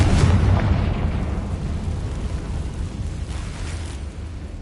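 A Confringo fire spell explodes in the video game Hogwarts Legacy, a loud close boom that rolls into a crackling, rumbling blast and fades gradually over several seconds, with no voices.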